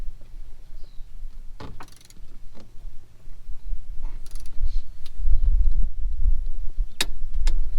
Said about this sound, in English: Now that we have this tightened down, I'm going to go ahead and torque it.